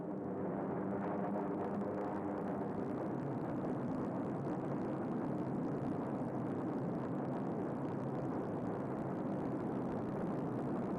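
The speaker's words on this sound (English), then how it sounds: "The Nazi planes that got off the ground didn't get very far." A steady, loud drone of a World War II propeller aircraft in flight, a broad unbroken engine roar with faint wavering, heard alone with no voices, as in a 1946 newsreel.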